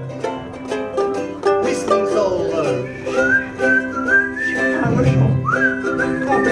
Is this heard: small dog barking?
no